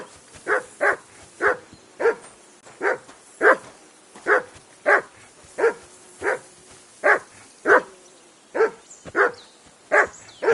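A dog in the Kingdom Come: Deliverance II video game barks in a steady, evenly spaced series of about fifteen loud, close barks with short quiet gaps between them.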